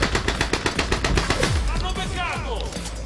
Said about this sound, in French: Lui, il a une grosse mitrailleuse.